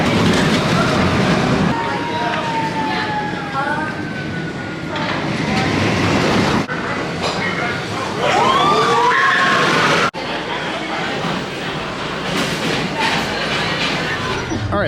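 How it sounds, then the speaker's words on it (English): Firechaser Express, a family roller coaster at Dollywood, rumbling along its track with a rolling, rattling roar, while riders shriek and whoop over the running train and the sound shifts abruptly between passes. "the first of 3 family coasters here, Firechaser Express"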